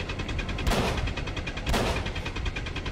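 Gunfire rings out in Call of Cthulhu: Dark Corners of the Earth, with a loud, dense rattle of shots and two sharper bursts standing out over the continuous barrage.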